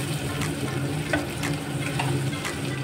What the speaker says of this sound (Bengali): এবার ভাজা হবে টমেটো আর ক্যাপসিকামটা।